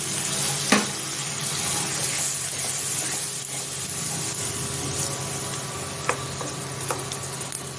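Water goes into a cooking pot of potato and pointed gourd vegetables, giving a steady hiss and sizzle with a few small clinks.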